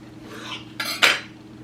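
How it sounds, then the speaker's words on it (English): A quartered onion goes into a pressure pot holding a pork roast, making two quick, fairly loud clattering knocks of metal and lid against the pot. "I'll just quarter this onion and put it in also."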